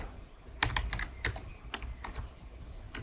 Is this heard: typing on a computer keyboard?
yes